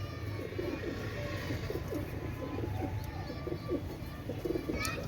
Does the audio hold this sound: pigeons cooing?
yes